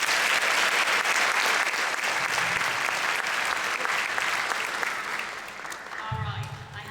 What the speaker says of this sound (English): So round of applause for Kay